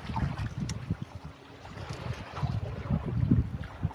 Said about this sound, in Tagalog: Ay, bangka.